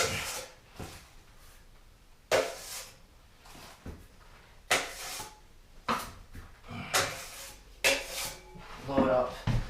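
A drywall knife scrapes all-purpose joint compound from a pan in repeated metallic scoops and clacks at an irregular rhythm, close and moderately quiet, with no talking.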